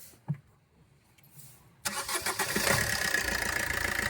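A 2017 Maruti Ertiga VDI SHVS diesel engine cranks and catches after a quiet stretch, then settles into a steady, loud running rumble close by.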